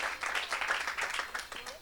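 Congregation at a French-language church service applauding and cheering, a dense crowd of clapping and voices rising and falling in waves, loud and close for a couple of seconds.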